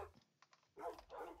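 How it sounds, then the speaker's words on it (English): Dogs in Minecraft give a few faint yips and whimpers, then two louder barks, all short and somewhat distant in the quiet game audio. "This is a lot of dogs."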